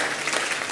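A church congregation at a Sunday afternoon Pentecostal worship service claps together in a brief, dense burst of applause, steady and fairly loud.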